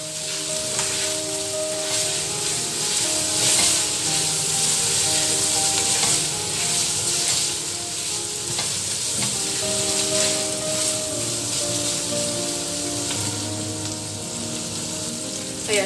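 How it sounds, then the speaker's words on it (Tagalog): Squash sautés in a hot pan for ginisang kalabasa, a loud, continuous close sizzle with occasional stirring scrapes and faint background tones, no voices over it. "Sangkotsa lang po natin ng 2 minutes."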